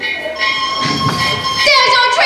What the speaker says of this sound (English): There's your train, now run for it.